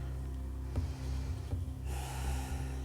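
Soft breathing through a four-point hip circle yoga flow on all fours, low and steady, with a couple of faint snorting puffs and a brighter exhale near the end, no voices.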